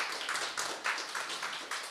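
Light clapping from a pitch competition audience, a short burst of scattered claps that stays fairly quiet, with no one speaking over it.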